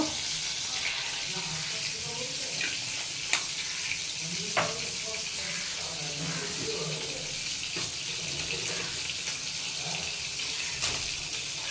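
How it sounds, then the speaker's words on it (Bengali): Hot oil sizzles and crackles steadily with whole spices, bay leaf and cumin, with occasional clinks and scrapes of a utensil against the pan. "এবার আমি ফোড়ন দেব।"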